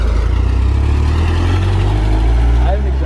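An old truck with a bad exhaust revs loudly up close, a rough, rumbling engine drone that holds steady for a few seconds while people talk over it.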